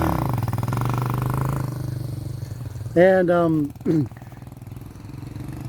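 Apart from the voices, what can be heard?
motorcycle engine revving for a wheelie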